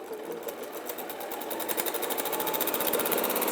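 A sewing machine stitches across the bottom of a fabric bag, a fast, steady mechanical clatter close by that builds slightly in speed and loudness.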